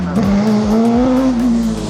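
Single-seater race cars at a car event drone past at close range, a loud steady engine note rising slightly, with tire noise underneath and brief faint voices.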